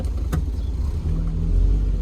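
Car engine rumbles low as the car is eased forward, a deep idle that rises slightly in the second half into a steady heavier drone, close and fairly loud.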